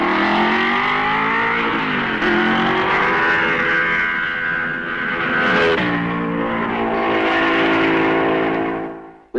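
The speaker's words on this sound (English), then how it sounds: "At La Source, Frère Ferrari, Kling Mercedes, Musso Maserati." Racing cars at the 1955 Belgian Grand Prix pass the La Source hairpin, including Ferrari, Mercedes and Maserati entries, their loud engines rising and falling as they brake and accelerate in a continuous, close roar.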